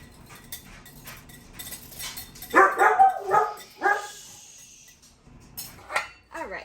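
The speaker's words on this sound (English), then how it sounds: "My youngest puppy dog, in his excitement to greet my husband, barked my little boyo awake." A young puppy barks excitedly while greeting someone arriving home, a burst of several quick, loud barks near the middle followed by a couple of softer yips, close by in a home kitchen during baking.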